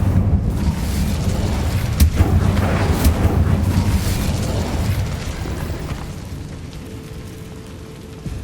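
Incendio fire spell in Hogwarts Legacy, a sustained roaring blast with crackling bursts and deep rumble, loud and close, gradually tapering off toward the end.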